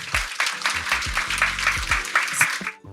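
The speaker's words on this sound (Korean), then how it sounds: "박수 한번 보내주세요" An audience at a drug-addiction prevention talk concert in Gangnam claps for a few seconds, the applause mixed with some tonal background sound before it cuts off sharply.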